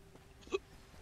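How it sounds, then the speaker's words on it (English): A single short hiccup from a person in the middle of a Predecessor game session, one sharp gulping burst that stands out briefly against quiet background noise. "Oh, I have hiccups."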